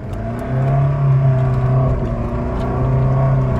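A Jeep Renegade diesel 4x4 engine drones steadily on an off-road trail, its low rumble swelling slightly as it revs, loud and close with no talk.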